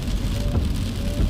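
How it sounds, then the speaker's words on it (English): Rain falls steadily on a moving car, a dense close patter blended with road rumble and no talking. "As you can see, we are in a little bit of rain."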